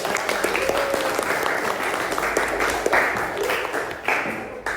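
Applause from an audience welcoming group 1 at a teacher performance test event at MAN 3, steady dense clapping throughout with a few sharper claps standing out near the end.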